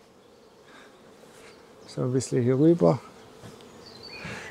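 A honeybee colony at a hive on an apiary in late May fills the scene with a steady, close buzzing drone, while someone speaks briefly over it in the middle.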